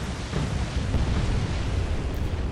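Torpedo hits explode against a ship in a World War II naval video game, a dense, sustained roaring blast filling the whole moment with heavy low rumble and no talk.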